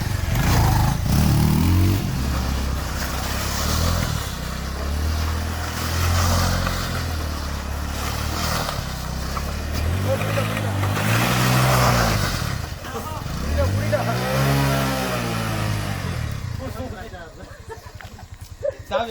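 A motorcycle engine revs repeatedly, its pitch climbing and falling in several sweeps before fading near the end, while someone talks over much of it.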